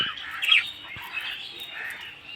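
Cockatiels, budgerigars and lovebirds in a colony chirp and twitter continuously while fed water spinach, a busy high-pitched chatter of overlapping calls at moderate volume.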